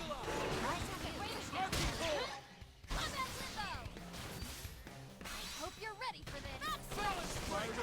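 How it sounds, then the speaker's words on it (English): Gunfire and impact effects in the video game Xenoblade Chronicles X: Definitive Edition, dense crashing bursts and whooshes in a loud continuous battle mix with game music and voices. "Let's wake them up with some gunfire."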